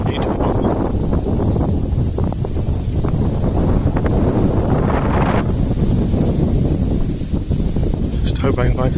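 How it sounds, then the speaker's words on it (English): Strong wind buffets the microphone on Leith Hill, a loud continuous rushing roar with gusty swells, while a person speaks under it. "I don't know where this wind came from."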